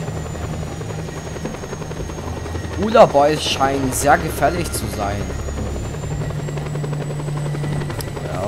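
Helicopter in the video game Just Cause 2 drones with a steady rotor hum throughout, while someone speaks German over it for a few seconds in the middle.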